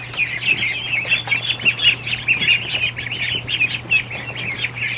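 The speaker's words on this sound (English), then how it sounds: "the ducks just keep coming back" A group of ducks at a duck barn quack and squawk repeatedly at close range, overlapping calls in a busy, uneven rhythm over a low steady hum.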